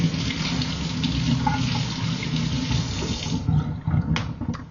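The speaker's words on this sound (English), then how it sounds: "So I gotta wash my hands now." Water runs steadily from a tap during handwashing, a continuous broadband gush that briefly shifts near the end as hands move under the stream.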